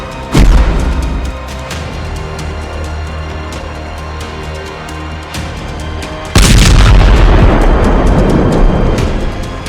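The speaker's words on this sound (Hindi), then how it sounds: "ODAB 9000 बम का धमाका" Two massive ODAB-9000 bomb blasts: a heavy boom, then a louder second explosion a few seconds later, each trailing into a long, deep rumbling roar.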